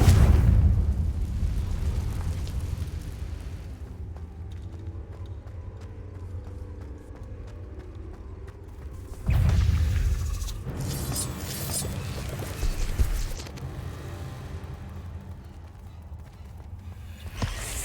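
Confringo blasting spells going off in Hogwarts Legacy gameplay: loud booming bursts with a strong low rumble open the clip and return around the middle and near the end, set over a continuous dense bed of game sound.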